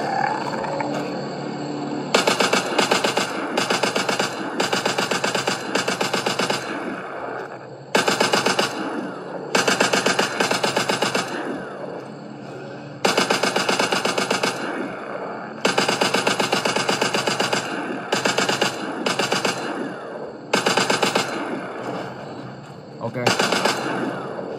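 Rapid machine gun fire blasts through a zombie shooter video game in long, loud sustained bursts separated by brief pauses, with growls and faint game voices underneath.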